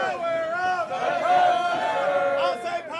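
A loud baseball crowd at Appalachian Ballpark in Virginia cheers and yells in a sustained roar, with many voices blending into a steady, dense din for the whole moment.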